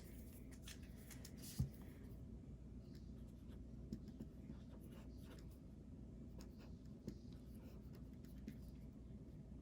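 Pen scratching across the pages of a vertical paper planner, soft continuous strokes close by over a low steady background rumble, with a few small taps and no talking.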